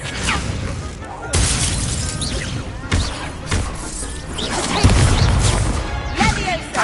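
The Expelliarmus spell cast in Hogwarts Legacy, with sharp whooshing bursts and crashing, shattering impacts repeating across the scene, layered over busy game sounds and voices.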